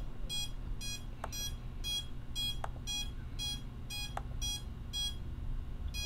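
A drone's motors emit a repeating series of short high-pitched beeps at a steady rhythm, about twelve bursts, during a receiver range test, heard alone and fairly faint.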